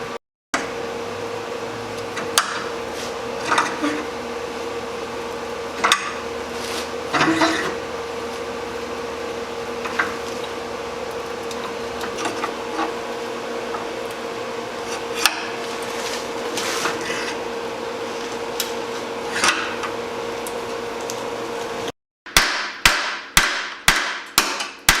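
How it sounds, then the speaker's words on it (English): A hammer drives metal down onto the rear frame tube of a Jeep YJ Wrangler during a frame rust repair kit install. A few scattered strikes sound over a steady hum, then a quick run of about six loud metallic blows closes the sequence. "taking that material and hammering it down into the area where the tube is at"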